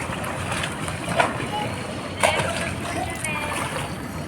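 Kids jumping into a swimming pool at a residential tower, with splashes and sloshing water over a continuous busy poolside background and children's voices talking.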